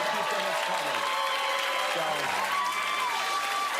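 Studio audience at a late-night comedy show breaks into steady, loud applause that fills the whole stretch, with a voice speaking faintly over the clapping.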